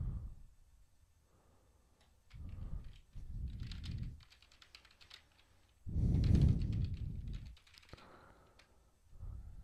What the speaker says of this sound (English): Mind my typing, it's failing today.